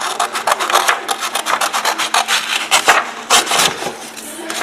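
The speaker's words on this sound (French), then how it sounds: "là je vais découper un petit peu avec vous pour que vous voyez un petit peu mieux" Paper being cut for a DIY photo-collage craft: a close series of crisp, uneven cutting and rustling strokes in short bursts, fairly loud and without speech.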